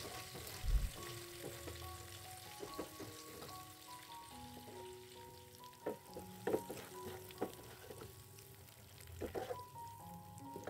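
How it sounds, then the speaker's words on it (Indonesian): Sambal chili paste fries in a wok with a faint, steady sizzle, broken by occasional stirring scrapes and clinks, while soft musical tones play in the background. "Jadi gorengnya menurut aku tuh nggak terlalu lama ya kalau goreng sambal gitu."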